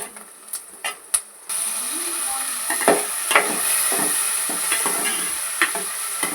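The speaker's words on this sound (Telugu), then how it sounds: "ఇలా దోరగా గోల్డ్ కలర్లో ఇలా వేయించుకోవాలి" Ridge gourd, egg and tomato fry in a pan with a soft continuous sizzle and occasional stirring scrapes and clicks; some sharp taps come first, then the frying hiss holds steady at moderate level.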